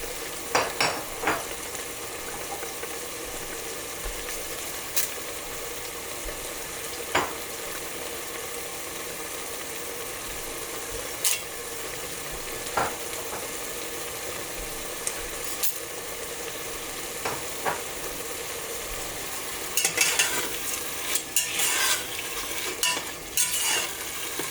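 Beef tehari ingredients sizzle and fry steadily in a heated pot, with a metal spoon scraping and clinking against the sides at intervals; a busier burst of clatter comes near the end, and no one speaks.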